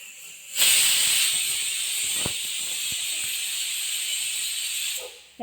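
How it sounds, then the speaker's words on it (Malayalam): A loud, steady pressure cooker whistle, cooking pumpkin and papaya curry on high flame, hisses continuously for several seconds, a bright sustained steam jet that cuts off abruptly near the end. "ഒരു വിസിലടിച്ചപ്പോൾ തന്നെ ഞാൻ സ്റ്റൗ ഓഫ് ചെയ്തു"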